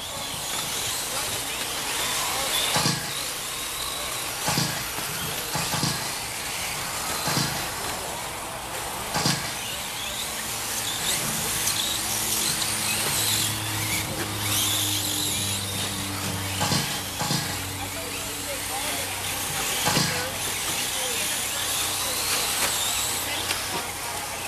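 Novice class race cars circling a dirt track at a raceway, engines droning and surging as they pass, with an announcer talking over the steady roar.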